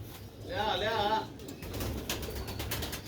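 Rooftop pigeons in Sialkot coo in a soft, low, throaty phrase up close, followed by rustling and outdoor background noise.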